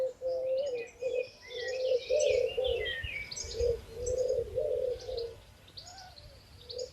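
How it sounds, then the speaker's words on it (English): Pigeons coo in a steady run of soft, low, throaty calls, overlapping almost continuously, while smaller birds chirp and tweet faintly in the background. "not a family of pigeons on your balcony at 5 a.m."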